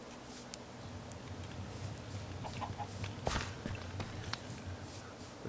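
Chickens in a Minecraft modpack game cluck in short repeated bursts over a steady low hum, with scattered soft footstep-like taps, all fairly quiet and close.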